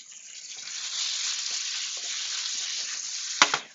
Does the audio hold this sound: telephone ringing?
no